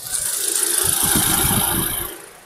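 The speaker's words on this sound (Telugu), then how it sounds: "ZXI యొక్క ఇంజన్ సౌండ్ అనేది ఈ విధంగా ఉంది, మీరు గమనించగలరు." Maruti Suzuki Swift ZXI Plus petrol engine idling with the bonnet open, a steady close mechanical rumble with a light rattle, fading slightly at the end; no talk.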